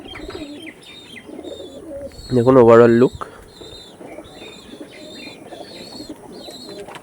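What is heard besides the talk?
Andhra pigeons cooing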